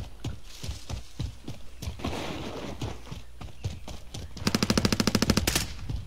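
Video game gunfire in a multiplayer shooter: scattered single shots, then a rapid, loud automatic burst near the end, over a steady background of game ambience.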